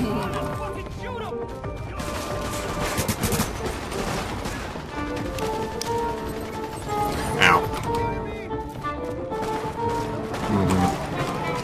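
Rapid automatic gunfire from a police M4 rifle in Tom Clancy's The Division, dense rattling bursts and loud fusillades crackling almost nonstop over game music and effects, with voices talking underneath.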